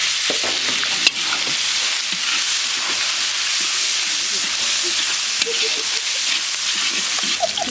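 Ginger paste, garlic paste and chopped tomato fry with meat in a pot during outdoor picnic cooking, a steady close sizzle with occasional stirring scrapes and clinks and no clear talk.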